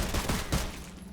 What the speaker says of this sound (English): These dual pistols aren't as strong as I'd like it to be